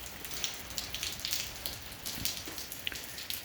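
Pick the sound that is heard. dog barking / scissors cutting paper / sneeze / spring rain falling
spring rain falling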